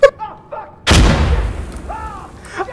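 A grenade explodes in the video game Insurgency: Sandstorm with a single loud, deep boom that rumbles and decays over about a second, with brief talking before and after.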